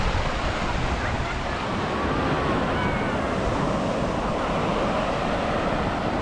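Strong sea waves break on a beach in Goa as a loud, continuous wash of surf with wind buffeting the microphone, filling the whole stretch with no clear gaps.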